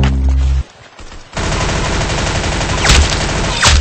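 Rapid gunfire from a Roblox video game, loud and sustained as dense automatic bursts, with a short lull near the start before the shooting resumes continuously to the end.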